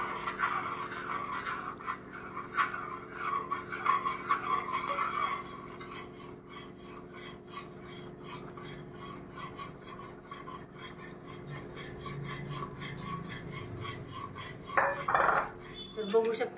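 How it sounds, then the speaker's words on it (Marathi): Semolina being stirred into boiling water for upma makes soft, repeated scraping and rubbing of a spoon against a pot, continuous and fairly close, with a louder scrape toward the end. "आता हे रवा टाकत टाकत"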